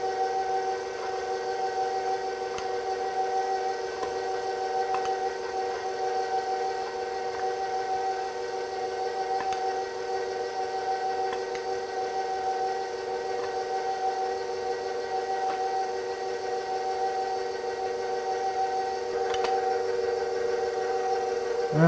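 An electric stand mixer runs on its low stir speed while mixing cookie dough, giving a steady, unbroken motor hum and whine that stays even in level throughout.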